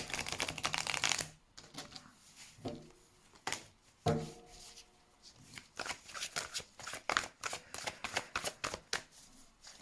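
Tarot cards shuffled and riffled by hand in quick, papery bursts of flicks and snaps, close and fairly quiet, with short pauses between rounds.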